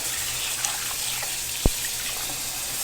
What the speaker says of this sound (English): So I'm going to rinse it now.